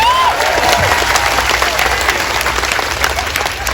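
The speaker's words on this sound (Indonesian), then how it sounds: "tepuk tangan untuk NO Taiwan" A crowd at an outdoor religious gathering in a park in Taichung, Taiwan breaks into loud, sustained applause, a continuous roar of many hands with some cheering mixed in throughout.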